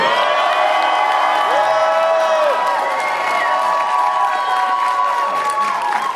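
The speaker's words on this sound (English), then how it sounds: "you guys, cheer for Byamba to come up here" A convention crowd at a sumo wrestling exhibition cheers and whoops loudly and continuously, with shrill shouts and scattered applause forming a dense, steady roar.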